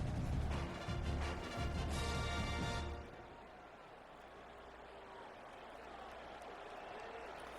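Football stadium crowd cheers at a college playoff game between Penn State and Boise State at the Fiesta Bowl, a broad roar that drops to a lower, steady crowd murmur partway through.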